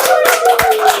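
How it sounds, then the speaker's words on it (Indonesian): An audience applauds to welcome a guest: a short burst of dense, loud clapping from many hands, close and continuous for about a second. "Selamat datang dan tepuk tangan buat Mbah Sumarjo."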